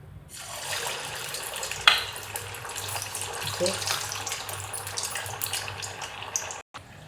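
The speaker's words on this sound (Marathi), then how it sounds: "तेल तापले आता मी तळून घेते" Poha brain vadas frying in hot oil give a continuous, fairly loud broadband hiss that stays steady throughout, with a brief sharp crackle midway and a short drop to silence near the end.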